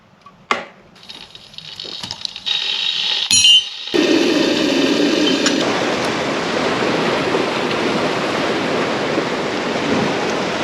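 A hotel room shower runs with a steady, close hiss of spraying water, starting after a few clicks and clunks as the tap is turned on, then continuing evenly.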